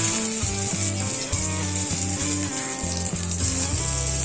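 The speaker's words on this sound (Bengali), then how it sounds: "গরম গরম তেলে ছেড়ে দিলাম।" Battered spiny gourd (kakrol) fries in hot oil in a wok, a continuous hissing sizzle heard beneath rhythmic background music.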